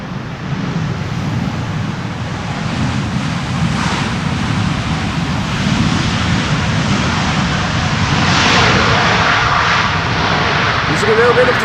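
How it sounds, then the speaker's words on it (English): An airliner lands on runway 18R Polderbaan at Amsterdam Schiphol in gusty weather, a loud continuous roar of engines in reverse thrust swelling slightly, heard at a distance through wind while someone talks. "Using a little bit of the reversers there."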